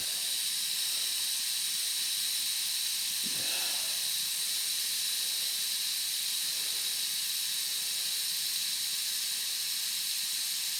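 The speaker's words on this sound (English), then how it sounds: "Let's see if there's any more steam left in here." Steam hissing steadily out of an Afghan pressure cooker heated over very hot coals, a loud continuous broadband hiss lasting the whole time, with no voices.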